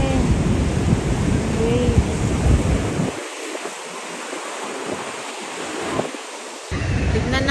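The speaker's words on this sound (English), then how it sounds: "Kasi napaka-wild talaga ng waves." Strong, wild ocean waves crash at Bronte Beach in Sydney, a loud continuous surf roar with heavy wind buffeting the microphone, easing briefly midway before surging back at full strength.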